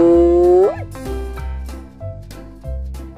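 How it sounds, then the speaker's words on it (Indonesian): A hyena cries out over a bouncy music beat: a loud, wavering howl at the start, then several shorter call bursts spaced in time with the rhythm. "Wah, serem sekali suara hyenanya."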